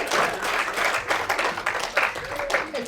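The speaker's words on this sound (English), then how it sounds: "Applause." Audience applause after a Q&A with film actors, continuous clapping from a crowd mixed with voices talking over it.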